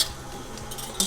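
A spoon stirs baking powder and salt into flour in a mixing bowl, giving a soft, dry scraping with a light clink against the bowl at the start and again near the end. No one speaks.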